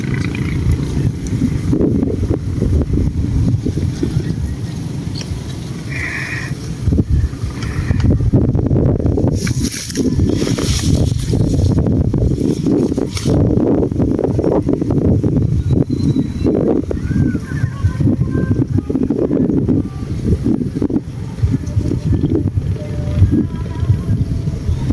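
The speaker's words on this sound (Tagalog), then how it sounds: "Mahangin pa naman." Strong wind blowing at sea during airgun fishing, a loud continuous roaring buffet across the microphone with gusty surges and occasional brief voices underneath.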